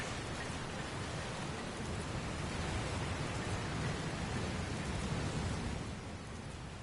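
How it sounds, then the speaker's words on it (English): Rain from a storm in the Dragon Quest Builders 2 video game, a steady dense hiss of falling drops that stays even for several seconds and eases slightly near the end, with no voices. "Where did this rain come from?"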